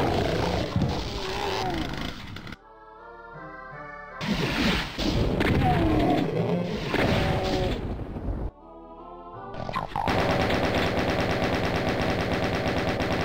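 Rapid weapon fire in the game Doom rattles in long, loud bursts broken by short pauses and mixed with monster roars and crashing impacts, ending on a sustained barrage.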